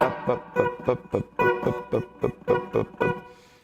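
Guitar chords strummed in quick repeated triplet bursts, each decaying slightly like an echo, with a clean rhythmic pulse and no voices.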